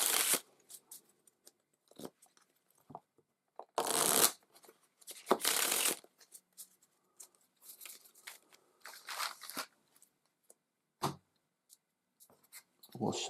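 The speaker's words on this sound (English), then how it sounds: "So we'll shuffle the advanced command deck." A deck of Deckers game cards is shuffled during a solo tabletop demo, several crisp riffling bursts and softer sliding of cards close by, with someone speaking quietly in between.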